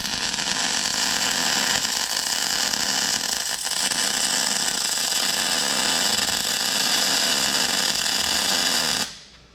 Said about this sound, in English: I'll finish welding it up